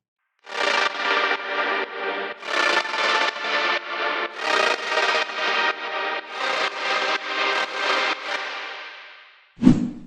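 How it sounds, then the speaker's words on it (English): A run of heavily processed, distorted synthetic notes pulses in quick succession, each smeared into a washy reverberant tail from a reverb plugin, ending with a short low thump. "Crystalline is my go-to reverb thanks to its multiple and different reverb signals"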